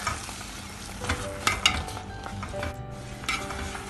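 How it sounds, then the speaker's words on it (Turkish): Acuka pepper paste being stirred in a pot, a thick wet squelching and scraping with faint sizzle and light clinks of utensil on metal, close up and steady. "şöyle bir karıştırıyorum"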